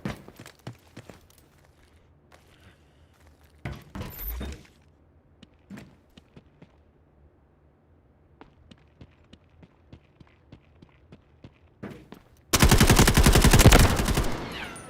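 Gunfire in the video game Delta Force erupts as one loud, sustained burst near the end, after scattered light clicks, footsteps and a brief earlier noise.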